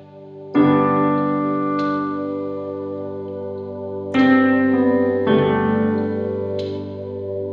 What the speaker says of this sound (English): And this is the sound of piano with pad loops sound.